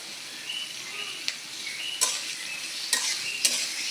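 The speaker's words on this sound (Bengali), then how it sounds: "পেঁয়াজটা এখন ভেজে নিচ্ছি, ভালো করে ভাজা হোক।" Chopped onions fry in a pan for a Bengali fish curry, giving a soft, steady sizzle close by. A few crisp clicks and scrapes mark the stirring.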